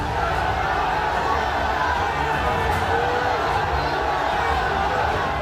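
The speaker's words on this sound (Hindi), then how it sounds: "मस्जिद की इमारत से लेकर सड़क की रेलिंग तक भारी भीड़ है और ये शोर इस बात की गवाही दे रहा है कि हालात कितने तनावपूर्ण हैं" A large protest crowd roars outside a mosque, a steady dense wash of many voices filling the street from start to finish at constant loudness, with no single voice standing out.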